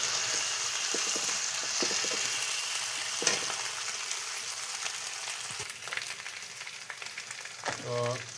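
Onions fried until red, with garlic and ginger paste added, hiss and crackle in a pan under a constant loud sizzle, stirred with scraping strokes and brief clinks near the end.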